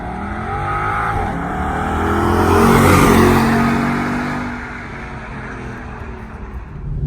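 Ford Mustang GT driving on a warm day, its engine note swelling loudly as it accelerates, peaking mid-run and then easing into a steady cruise, with rising harmonic tones from the V8 and road noise throughout.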